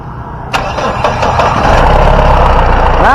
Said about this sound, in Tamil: வண்டியோட இன்ஜின் சவுண்ட் எப்படி இருக்குது அப்படின்றத கேட்போம்